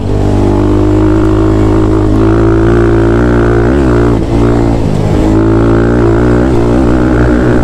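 Thumpstar TSX140 dirt bike engine under load while riding out of a corner, a loud, close, steady droning roar with rising and falling revs as the rider shifts into third gear.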